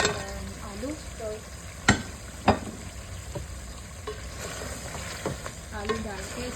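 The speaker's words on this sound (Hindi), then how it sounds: "आलू डाल के इसको मैं थोड़ा और भूनूंगी" Potatoes fry with chicken in masala, a steady close sizzle broken by a few sharp knocks and scrapes of a stirring spoon against the pot.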